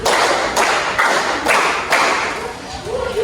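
A class claps in a set counting pattern as a lesson opens, sharp group claps falling in an even rhythm, about five of them, near and fairly loud in a roomy space.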